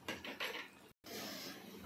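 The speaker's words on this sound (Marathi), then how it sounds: "आता थोडं झाकण ठेवून परत वाफवून घेऊया" A metal lid clinks and scrapes onto a cooking pot of egg curry with short, close kitchen clatter, then a soft steady hiss follows.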